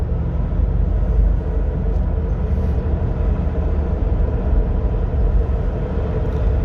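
Interior of a car driving in third gear with a slipping transmission: a constant, loud low-pitched engine and road rumble that holds steady throughout with no breaks.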